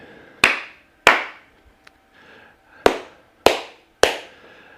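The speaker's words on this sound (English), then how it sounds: "I think they can often do the clap test." Sharp hand claps test the acoustics of a soundproofed studio room, five separate claps each followed by a short decaying ring in an otherwise quiet space.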